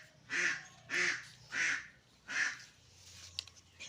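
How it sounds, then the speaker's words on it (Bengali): A duck quacks four times in a loud, evenly spaced series of harsh, nasal calls, close by, followed by quieter background sounds. "এর আওয়াজটা শুনে নিশ্চয় বুঝতে পেরেছেন যে এটা এক প্রজাতিরই হাঁস"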